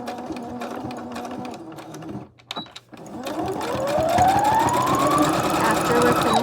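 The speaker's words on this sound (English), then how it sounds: "So what you'll do is sew this. I'm giving myself a 1/2 inch seam allowance." A sewing machine stitches a tote bag seam with a half-inch allowance, running steadily and close, with a brief pause partway before the motor resumes with a rising whine.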